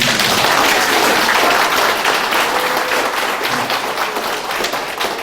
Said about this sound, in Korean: 다시 한번 뜨거운 박수